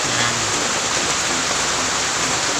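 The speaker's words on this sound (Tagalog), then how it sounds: "Lumalakas na po yung ulan." Heavy rain pours down outdoors during bonsai work on a Vitex parviflora, a dense, constant hiss of water that stays loud and unbroken throughout.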